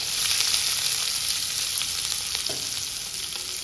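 Onion sizzling in a pan with mustard seeds and green chillies for Indore-style poha, a steady close frying hiss with a few faint stirring scrapes and no talk.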